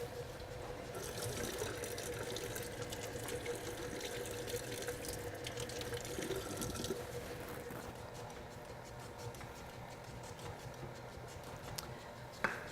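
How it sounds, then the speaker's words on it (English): Tap water runs steadily into a kitchen sink or container as a continuous soft rushing splash, medium distance and fairly quiet, with a few small clicks near the end. "I need 2 tablespoons of water also."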